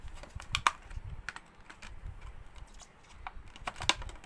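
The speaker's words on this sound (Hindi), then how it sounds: "ऐसे अच्छे से पैकिंग खोलो" Packaging of a Flair Inkp Classic fountain pen being opened by hand, a quiet run of crisp clicks, crinkles and taps scattered irregularly, close up, with no talking.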